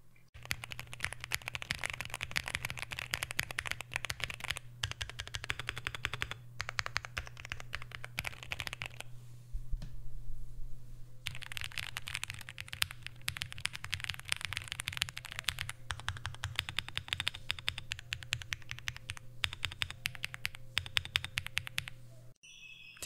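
Rapid clicky keystrokes on an Akko MonsGeek M1 V5 mechanical keyboard, steady typing rhythm with a short pause in the middle, close and fairly quiet.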